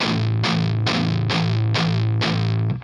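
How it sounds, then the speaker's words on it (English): Heavily distorted electric guitar through a vintage amp chugging out six loud, evenly spaced power-chord hits with a thick, fuzzy low end, no voices. "This is like all the low end loosely going into the distortion."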